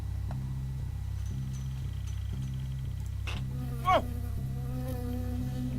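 A bee buzzes in the video game Firewatch, a steady insect drone that runs the whole time over a low pulsing hum, with a brief sharp sound near the end.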